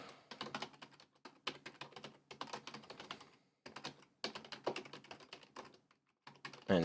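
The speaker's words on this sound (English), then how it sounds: "And the typing." Fingers type on a computer keyboard in quick, uneven bursts of clicking, with short pauses between runs of keystrokes, close and fairly quiet, no voices.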